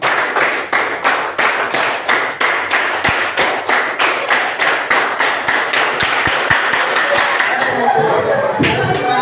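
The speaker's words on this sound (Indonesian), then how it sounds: "Tepuk 5 kali." Group in a classroom session doing a rhythmic clapping routine, sharp unison claps in quick regular sets, close and loud, ending in looser scattered clapping and voices.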